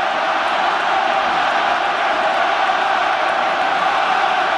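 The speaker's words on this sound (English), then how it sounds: "Crowd right behind Ireland here." A rugby stadium crowd roars steadily and loudly behind Ireland at a 2013 autumn international against New Zealand, a dense, unbroken wash of massed voices throughout.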